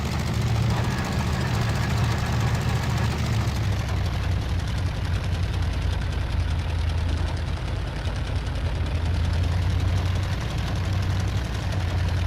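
Steady droning engine of a Bf 108 light aircraft at full power near Shoreham Airport, a constant low rumble heard from inside the cabin, loud and unbroken.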